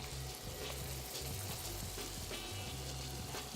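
Liver and heart fry in butter with thyme and garlic, a dense, constant sizzle with low bubbling, heard up close and unbroken.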